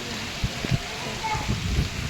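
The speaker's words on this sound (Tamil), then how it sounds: "இப்போ பார்த்திங்கன்னா மழை சும்மா பயங்கர வேகமாக வருது" Heavy rain pours steadily in Chennai, a dense hiss with scattered pattering hits, while a person talks over the downpour.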